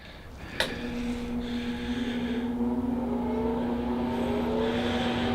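A radiator-style electric heater runs noisily indoors, giving off a steady droning hum with a faint hiss beneath it and one brief click near the start.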